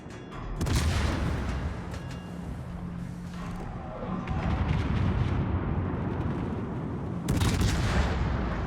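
A Tier 9 Commonwealth cruiser's guns fire at an enemy ship in a naval video game: heavy booming salvos over a rumbling background, with a loud blast near the start and another late, close and powerful.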